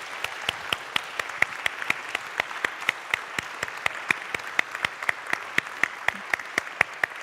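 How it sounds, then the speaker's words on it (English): A church audience gives a warm round of applause, steady dense clapping with many individual sharp claps standing out, moderately distant and continuous throughout. "let's all give Debbie one last round of applause."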